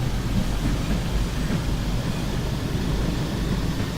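Steady, dense rain fills the scene in the Train Sim World game on the TransPennine route, a constant loud wash of noise with a low rumble underneath and no other distinct sounds.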